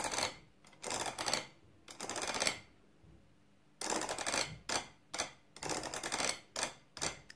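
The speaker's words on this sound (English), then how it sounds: "If you take your notebook and a wooden spoon, it will make a sound like this" A wooden spoon scraping a spiral notebook: dry wooden scraping and rattling in quick bursts, some long strokes and some short, with brief pauses between, close and fairly loud.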